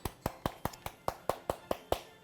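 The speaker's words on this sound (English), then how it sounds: "likes to tap on the stamp" A rubber stamp taps on an ink pad about ten times in a steady rhythm, each tap a crisp, close, dry knock.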